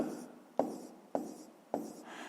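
A pen writes by hand on paper while a math answer is noted down, making soft scratchy strokes near the listener, with three sharp taps as new strokes start, and no voice.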